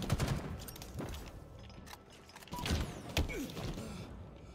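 Faint, distant shooting from the Halo Infinite video game crackles in a few scattered bursts over a low, steady background rumble.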